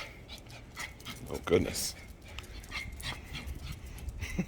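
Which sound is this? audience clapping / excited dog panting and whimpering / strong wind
excited dog panting and whimpering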